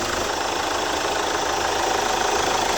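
Chevrolet Captiva diesel engine idling with a hard-starting fault and check-engine warning, a loud, steady, continuous rumble with a slight knocking texture, close up and without any speech.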